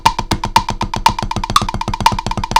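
Quick, uneven stick-control drum strokes hit in a loose, slightly ragged rhythm, close and loud, with a ringing overtone on the accented hits.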